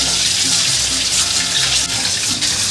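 Potatoes are rinsed under a running kitchen tap, giving a loud, continuous gush and splash of water that stays steady throughout.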